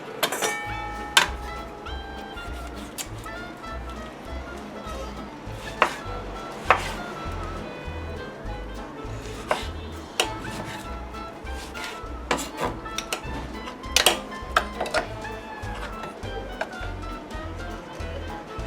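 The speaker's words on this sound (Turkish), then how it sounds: "Şimdi buraya bir domates daha çekeceğim ben." Tomatoes are grated by hand for lahmacun filling, a steady series of rhythmic scraping strokes with low thuds and occasional sharp clinks, close and fairly loud throughout.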